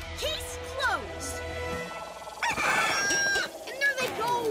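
Cartoon chickens cluck and squawk in a busy animated scene, with bright chirpy calls and a crowing burst, mixed with music and effects at moderate loudness.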